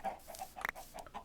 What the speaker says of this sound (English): And you see all these chickens. So I have a chicken farm on the island.